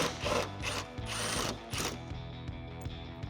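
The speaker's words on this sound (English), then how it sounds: "grab your extension and a 10mm socket and let's get this removed" A ratchet with a 10 mm socket and an extension removes a headlight bolt on a 2007-2013 Chevrolet Silverado. Close, rhythmic clicking comes in short bursts of ratcheting, with brief pauses between the strokes.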